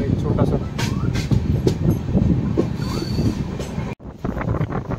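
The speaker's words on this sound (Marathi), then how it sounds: "आपल्या दिवागाडीने आता एकदम भरधाव वेग पकडला आहे" Diva passenger train running at speed on the Konkan line toward Panvel, loud close rumble and clattering wheels from inside a coach, with a sharp dropout near the end, with people talking under the noise.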